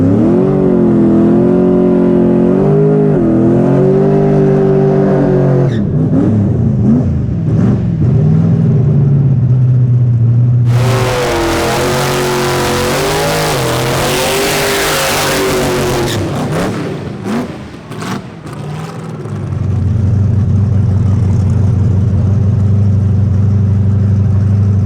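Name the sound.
drag race car accelerating down the track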